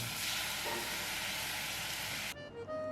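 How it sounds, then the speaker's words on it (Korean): Mushrooms and paprika stir-fried in water hiss with a loud, continuous sizzle that cuts off abruptly near the end, leaving a quieter pan with faint clinks. "파프리카와 버섯도 물로 볶아주세요."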